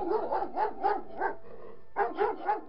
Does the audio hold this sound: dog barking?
yes